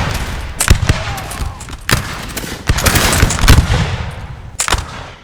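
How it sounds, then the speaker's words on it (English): Musket gunfire in the video game Napoleon Total War: scattered sharp volleys and single shots crack over a rumbling battlefield background, loud and irregular. "Having a good old gunfight there."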